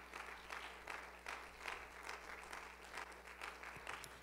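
A church congregation claps in a rhythmic, pulsing pattern, faint and somewhat distant over a low steady hum, with regular bursts repeating throughout and no voices on top.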